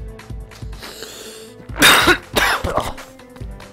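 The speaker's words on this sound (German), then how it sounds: "Ja, schon wieder Hustenanfälle hier." A coughing fit: several rough, harsh coughs with throat clearing, close to the mic and loud, the heaviest bursts in the middle, with no speech.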